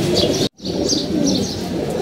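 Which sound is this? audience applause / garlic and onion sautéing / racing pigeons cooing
racing pigeons cooing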